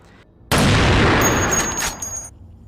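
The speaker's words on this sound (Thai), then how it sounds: "เสียงปืนของตาสีทาดังขึ้นมาในยามวิกาล" A single sharp gunshot at night cracks out of near silence, then rolls into a long, echoing boom that fades after a couple of seconds.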